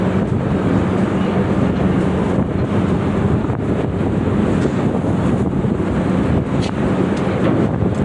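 Strong, steady wind roars across the microphone on a Padma River ferry, with a constant low rumble of water and engine underneath, loud and unbroken throughout.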